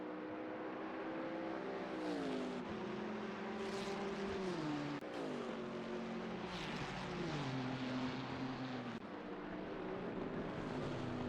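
Race cars in a sim racing endurance game, including a Nissan GTR, roar steadily with engine notes climbing and dropping through gear changes and braking into a chicane, continuous and fairly close.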